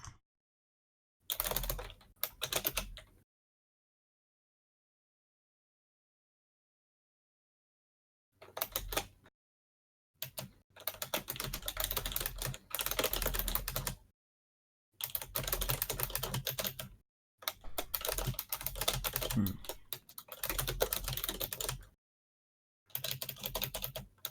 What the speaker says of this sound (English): Max, you're a little loud with the typing there.